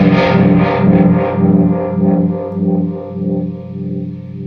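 An electric guitar runs through a Roger Mayer Voodoo Vibe pedal set to light chorus. The sustained, ringing chords carry a steady wavering pulse and play loud and alone, fading gradually.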